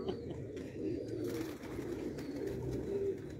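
Sialkoti breeder pigeons coo in low, rolling, overlapping calls, near and steady without a break.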